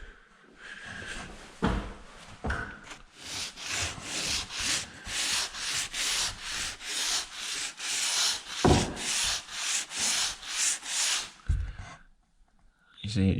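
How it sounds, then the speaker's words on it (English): A wet sanding sponge rubs back and forth over filled plaster coving in steady, rhythmic strokes, a close, gritty scrubbing repeated many times with brief pauses and a few knocks. "what I do is I run over with a wet sanding sponge"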